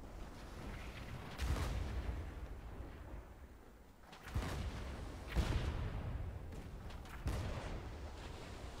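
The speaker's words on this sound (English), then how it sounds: "I can't hit them with the left cannon" Ship cannons boom in the pirate naval battle game Blazing Sails, a handful of heavy, distant-sounding blasts spaced a second or two apart, each followed by a rumbling decay, over steady background ambience.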